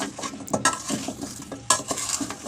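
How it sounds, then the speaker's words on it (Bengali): A spoon stirs olive pickle with jaggery and panch phoron powder in a pan, giving close scraping and clinking against the metal over a soft sizzle. "অনবরত নেড়ে নিচ্ছি।"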